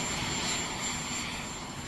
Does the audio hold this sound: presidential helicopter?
yes